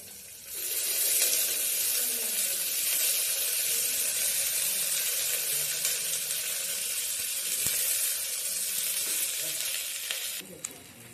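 Tempering for a moong dal sizzles and crackles steadily in hot oil in a pan. The sound is a loud, close, continuous frying hiss that holds for about ten seconds and then cuts off abruptly.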